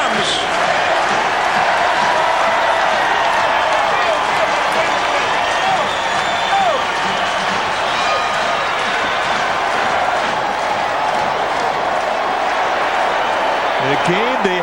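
Loud, sustained roar of a packed ballpark crowd cheering for Barry Bonds in 2001, a dense unbroken wall of noise lasting throughout.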